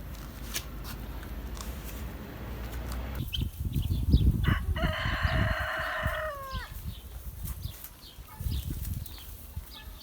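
Chickens cluck and scratch nearby while a rooster lets out a loud crow in the middle, with some flapping and shuffling around it.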